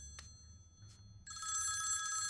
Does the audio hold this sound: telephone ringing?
yes